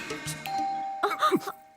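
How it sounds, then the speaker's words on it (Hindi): Electronic doorbell chiming in a Hindi dubbed action movie, a clear two-tone ding-dong rung twice in quick succession, close and loud, with a brief voice over it. "घंटी को भी अभी बजना था, दिमाग का घंटा बजा दिया।"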